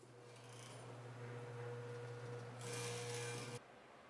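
Hand sawing through wood to cut a lap joint, a quiet steady rasping that grows louder toward the end, then stops abruptly, with a faint hum beneath.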